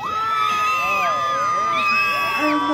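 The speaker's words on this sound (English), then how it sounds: "And the crowd goes wild." A crowd cheering at a pumpkin farm pig race, loud continuous whoops and children's shouts from many voices at once.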